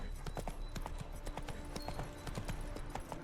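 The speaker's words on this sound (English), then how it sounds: "Spooking my horse. Roach doesn't like ghosts." Horse hooves clip-clop in a steady, even rhythm in The Witcher 3 video game, quiet, moderately close hoofbeats with faint background ambience.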